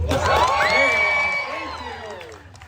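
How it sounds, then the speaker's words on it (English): A theme park audience at a Deadpool story-time show at Disney's California Adventure cheers and whoops with scattered clapping, a loud swell of crowd noise and children's shouts that fades toward the end, with someone talking over it. "A little louder applause would be nice"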